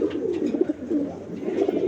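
Large racing pigeons kept in a loft coo softly and continuously at close range, a low murmuring layered from several birds with no talking.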